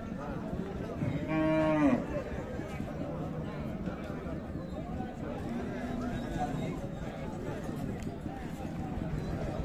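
A Friesian cow with her calf at Raniganj cattle market in Dinajpur gives one clear, drawn-out moo amid a busy outdoor hum, with people talking in the background.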